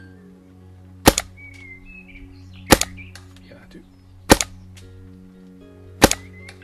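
A Planet Eclipse EMF100 paintball marker set to a selectable electronic firing sound gives four sharp, evenly spaced shots about every second and a half over a steady hum, with a brief spoken reply between.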